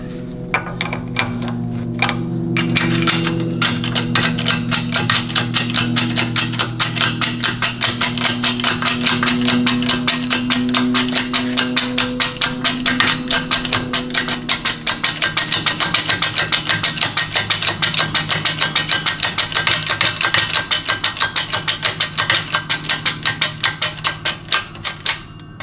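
Rapid, continuous hammer blows drive a bushing into a Chrysler A904/A998 automatic transmission part. The sharp metallic strikes are close and loud, with a steady fast rhythm lasting the whole stretch, and a low hum sits beneath them.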